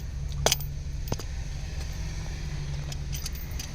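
Road traffic in Kannur: steady, close engine drone of a vehicle stuck in heavy traffic, with a few brief sharp clicks and clatters over the continuous low hum.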